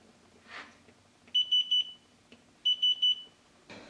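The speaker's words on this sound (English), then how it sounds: "it will start giving a beep when we get very close" Digital torque screwdriver set to 8 Newton meters, used while building a large house battery, gives two bursts of three quick high-pitched beeps each as it nears the set torque, close and clear with a brief rustle before and after.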